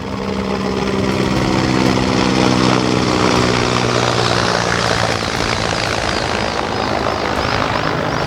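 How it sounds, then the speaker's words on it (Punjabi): A relief helicopter roars steadily overhead, its thumping rotor and engine drone filling the whole stretch at close range. "ਇੱਕ ਹੋਰ ਸਾਹਮਣੇ ਹੈਲੀਕਾਪਟਰ ਆ ਰਿਹਾ ਇੱਕ ਇਹ ਲੰਘਿਆ"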